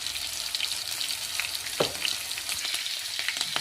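Cumin, green chilies and ginger frying in oil for tomato chutney, a constant close sizzle with a few stirring scrapes and clinks.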